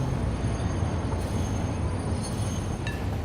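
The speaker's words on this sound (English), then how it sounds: "Yeah, the supercomputer train's behind us." A video game train rolls along its rails in a steady, dense rumble with faint metallic clinks, close and continuous for a few seconds.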